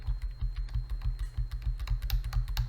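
Rapid, even clicks of arrow keys on a computer keyboard, pressed in a steady rhythm of roughly five to six taps per second, close and clear with no talk.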